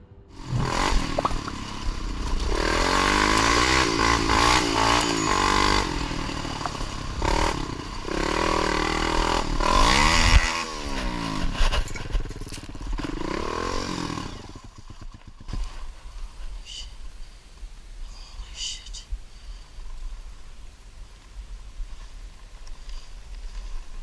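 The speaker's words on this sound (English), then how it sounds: "speeding along an off-road section on his ATV" An ATV rides off-road along a woodland trail, recorded on a mounted GoPro: a loud, rough engine roar with revving pitch swings, rattling and scraping over bumps for about fifteen seconds, then cutting off into quieter background.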